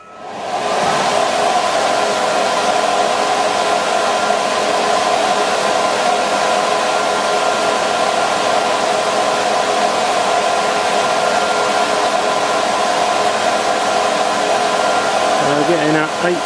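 An air blower three feet from a horizontal-axis wind turbine test rig, with no venturi fitted, starts up and holds a loud, steady broadband rush with a tonal hum throughout, along with some faint background sounds.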